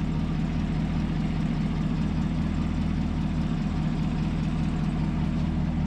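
A Camaro ZL1 1LE idles through a modified exhaust with new catalytic converters, giving a steady, deep, throbbing rumble that stays constant and close throughout with no voices over it.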